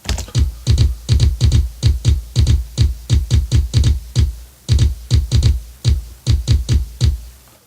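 A programmed kick drum pattern plays back in tight, repeating groups of thumping hits, dry and up close, with no voices.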